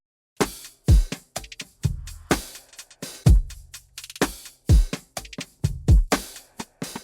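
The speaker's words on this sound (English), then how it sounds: "So altogether, all the drums sound like this." A trap-style song drum pattern of sampled and Logic kit drums with a shaker plays alone: punchy kicks with deep booming tails, sharp snares and ticking shaker hits in a syncopated groove.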